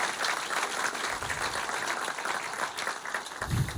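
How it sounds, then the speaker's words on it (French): Audience applause at a French stand-up comedy show, a steady dense wash of clapping lasting the whole few seconds, loud and close with no pauses. "On applaudit Walter, s'il vous plaît."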